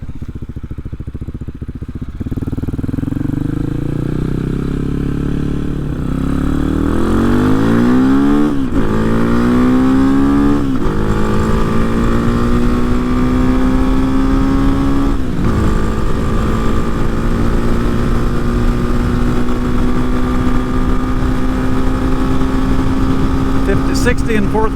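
Hawk 250 motorcycle with a Loncin RE250 engine and swapped six-speed gearbox accelerating, its engine note climbing through several gear changes to a sustained loud drone, with a voice talking over it.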